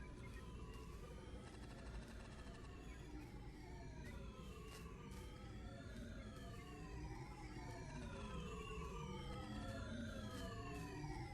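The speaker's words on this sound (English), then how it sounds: "Sirens are getting a lot louder." Several wailing sirens in the horror video game Scavenger SV-4 sweep up and down in overlapping rising and falling tones, steady and fairly loud throughout, over a low rumbling background.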